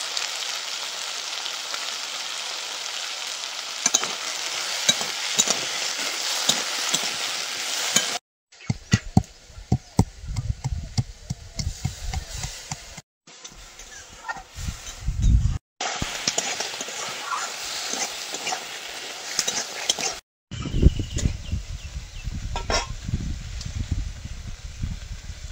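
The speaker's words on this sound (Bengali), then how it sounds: "কাঁকড়াগুলো ভেজে নিয়েছি।" Crabs fry in a wok with a bright, steady sizzle, broken by cuts between several shots, with clanks and stirring scrapes of a utensil against the pan in the later parts.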